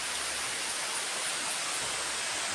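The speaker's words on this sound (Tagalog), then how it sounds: "Nabutan na ako ng ulan dito. Lakas." Heavy rain pours outdoors among trees, a dense, loud, unbroken hiss close by with no break in the downpour.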